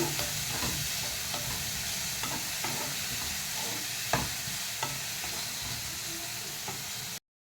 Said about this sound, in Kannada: ಇದು ಸ್ವಲ್ಪ ಮೆತ್ತಗೆ ಆಗುವಷ್ಟು ಫ್ರೈ ಮಾಡಿ.